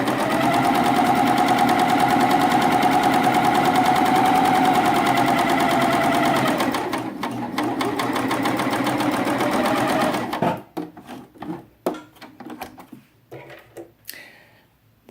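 Coverstitch machine hemming knit fabric along a tape guide, a loud continuous rapid whirring for about ten seconds that then stops, followed by scattered quieter handling clicks and rustles.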